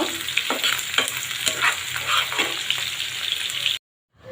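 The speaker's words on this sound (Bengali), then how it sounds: "এখন আমি পেঁয়াজগুলাকে বাদামি রঙে ভেজে নেব।" Sliced onions frying in hot oil until brown, with a steady sizzle and repeated scraping stirs from a spatula against the pan, close and continuous before cutting off abruptly near the end.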